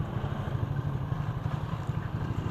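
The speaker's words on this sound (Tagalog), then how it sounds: "So ayan, binuhay na natin ang makina natin para mag-init na." An engine idles while warming up, giving a steady low, close rumble with a fast, even throb and no voices.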